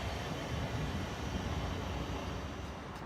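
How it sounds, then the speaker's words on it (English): LNER train running from London King's Cross to York, a continuous broadband rumble and rush heard from inside or close by, steady and loud for the whole stretch with no talking. "The 11:59 LNER service from London King's Cross to York."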